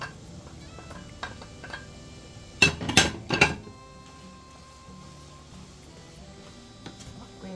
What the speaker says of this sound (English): Then I'm going to add my chopped potatoes.